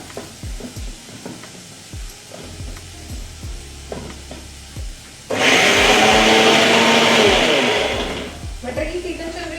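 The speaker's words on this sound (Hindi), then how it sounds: "और अब हम अपने कॉर्न को पीस लेंगे।" An electric grinder pulverizing corn kernels for cheese balls, starting abruptly after some handling clatter and roaring loudly for about three seconds before winding down.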